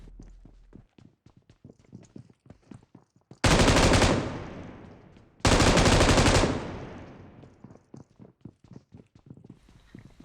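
Two long, loud bursts of rapid automatic gunfire in PUBG Mobile, separated by a pause, with light clicking footsteps ticking before, between and after.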